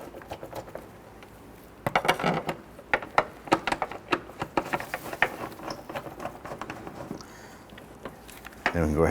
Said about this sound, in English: we're going to use our extension here to go ahead and get all of these screws started